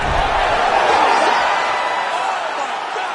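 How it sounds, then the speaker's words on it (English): A loud arena crowd roars and cheers continuously at the end of a combat sports fight, a dense wash of voices filling the space without a break. "crowd loving it"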